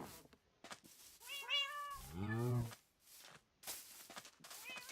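Cats meow in Minecraft Bedrock Edition, two drawn-out meows up close, the second lower and longer, amid soft game footsteps and clicks.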